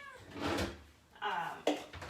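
A pet cat meows insistently for food, two or three drawn-out calls close by, with a faint clunk between them.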